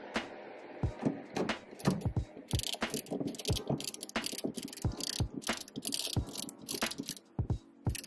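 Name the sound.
ratchet with 11 hex socket removing car battery bolt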